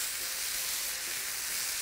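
Chicken liver sizzling steadily in a hot pan, with pepper and onion, while being stirred, a continuous close frying hiss with no voices.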